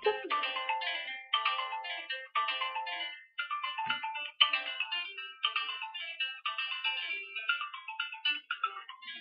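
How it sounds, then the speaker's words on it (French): A phone ringtone playing a repeating melodic phrase in clear, evenly spaced bursts, moderately quiet and alone, with no voices over it. "Excusez-moi pour le téléphone."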